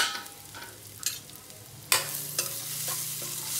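Onion and okra frying in a pan for bhindi masala curry, a soft steady sizzle broken by several sharp scraping stirs and clinks, close and fairly quiet, no talking.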